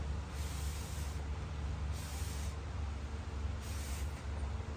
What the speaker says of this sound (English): Now for the back side, I'll spray that towel real good.